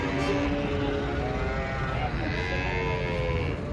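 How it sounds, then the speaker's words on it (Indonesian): Cattle being unloaded from a truck, low moos close by amid a busy, noisy background with people talking and engine or crowd noise throughout. "wah ini banyak sekali datang semua ini sapi"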